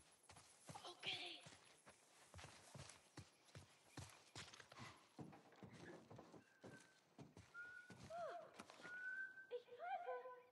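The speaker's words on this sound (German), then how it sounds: "Ich pfeife." A game character whistles a short tune in The Last of Us Remake, Pittsburgh chapter, brief melodic notes toward the end over scattered footsteps, thuds and spoken dialogue.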